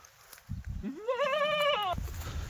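A Kathiawadi goat gives a single drawn-out bleat at close range, rising then holding steady for about a second, with faint rustling and low thumps around it.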